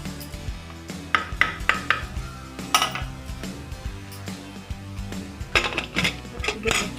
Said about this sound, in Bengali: এবার আমি কুকারটা লাগিয়ে দেবো।